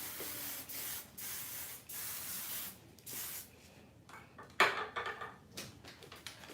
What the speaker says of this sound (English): Spray a little bit of hairspray